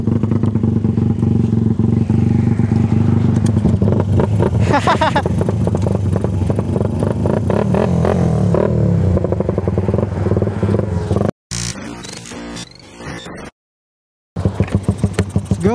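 A stock motorcycle engine at a drag race runs loud and close, revving with a rough, rattling roar, then sputters and drops out briefly before starting again.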